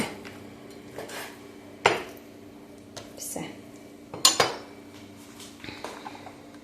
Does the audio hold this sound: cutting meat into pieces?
yes